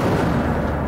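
Incendio fire spell cast in a Harry Potter video game on PS5, a brief loud fiery whoosh and burst with a booming low rumble, lasting under a second.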